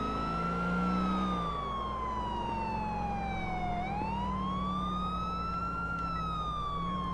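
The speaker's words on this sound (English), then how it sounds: "You hear the police sirens," A police siren wails in Grand Theft Auto IV, a single rising and falling electronic tone heard steadily over low engine rumble, with no talk.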